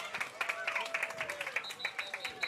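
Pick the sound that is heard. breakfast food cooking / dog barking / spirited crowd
spirited crowd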